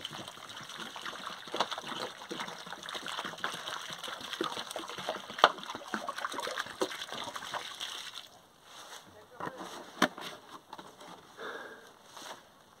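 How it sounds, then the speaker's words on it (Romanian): Five litres of water pour onto a newly planted linden tree, a steady splashing gush against soil that runs several seconds, then breaks into a few scattered trickles and drips. "Și îl ud abundent, cu 5 litri de apă."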